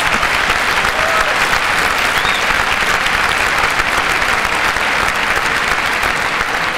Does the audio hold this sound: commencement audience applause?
yes